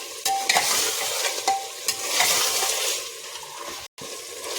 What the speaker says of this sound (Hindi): इसको अदरक लहसुन पेस्ट डाल के भून लेंगे।